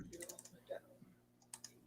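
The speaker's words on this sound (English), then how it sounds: "think we're both clicking on stuff at the same time" Computer keyboard typing and mouse clicking at a desk, a quick scatter of light clicks in two bursts with a short lull between, close and fairly quiet, with faint talk in the background.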